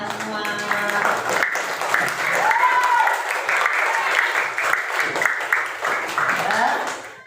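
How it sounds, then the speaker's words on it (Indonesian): A classroom of students applauds together, a steady crisp patter of many small hands that holds throughout, with voices calling out and chattering over the clapping. "Tepuk tangan untuk kalian semua."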